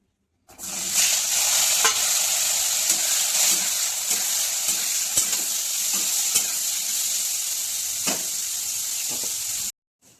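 Wild rugda mushrooms fry in hot oil in an Odia village kitchen, giving a steady, loud, close sizzle and hiss with occasional faint stirring clicks, which cuts off abruptly at the end.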